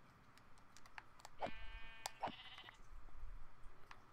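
Sheep bleating in a multiplayer video game, two short nasal bleats close together amid faint keyboard clicks, otherwise quiet.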